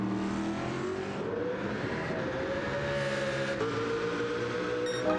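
A GT race car engine roars in a racing video game endurance race, loud and continuous, its pitch climbing through gears with a shift dip, close and alone.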